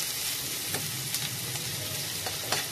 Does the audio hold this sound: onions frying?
yes